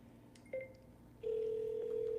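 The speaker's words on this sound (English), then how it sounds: "I'm gonna double dial her right now" A phone line rings out after a number is dialed for a real estate cold call: a brief tone, then a steady, loud, sustained ringback or dial tone that continues to the end, with no talking.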